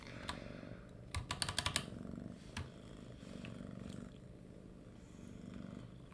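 A cat treads across computer keyboard keys, sending quick bursts of clustered clicks and a few single taps, close and fairly quiet against a low background hum, with no talking.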